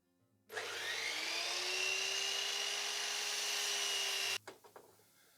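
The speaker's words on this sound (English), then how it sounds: "Just going to cut this straight on the miter saw" A miter saw spins up and makes one straight cut through wood for a bird table, a loud steady whine lasting about four seconds, followed by a few clunks as it winds down.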